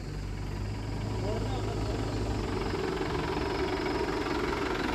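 A tractor engine runs steadily while hauling a trolley trailer out of a muddy spot, a continuous low rumble and chugging drone that fills the whole stretch, heard close and loud.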